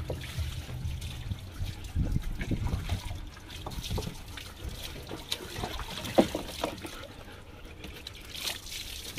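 Water is poured and splashes during a bath, irregular trickles and splashy pours coming in uneven bursts close by.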